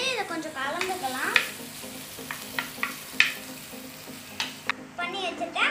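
Chopped ginger and garlic stirred in a pan, with a steady sizzle of frying under a series of sharp scraping and clacking spoon strokes, close and fairly quiet.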